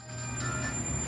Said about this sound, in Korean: ITX 청춘 열차는 그렇게 약 1시간 10분여를 달려서 마지막 역이자 오늘의 여행의 목적지인 춘천역에 도착을 하였습니다